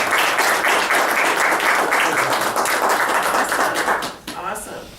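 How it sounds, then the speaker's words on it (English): Members of a county SPLOST committee at a meeting applaud together, a dense burst of clapping that holds steady for about four seconds before fading, with voices chatting underneath. "can we applaud ourselves?"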